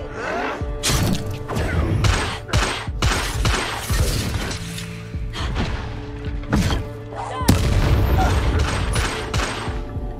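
An Incendio fire spell is cast in a Hogwarts video game, loud bursts, cracks and thuds in rapid irregular succession amid combat, one heavier blast near the end.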